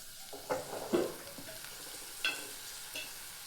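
A tomato mixture frying in a pan with turmeric and salt gives a quiet sizzle. A utensil scrapes and stirs it, with several distinct strokes spread across the few seconds.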